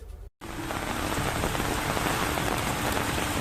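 Heavy rain pours down in Uttarakhand, a loud, dense, unbroken hiss of water striking surfaces that starts after a brief cut and continues steadily, close and enveloping.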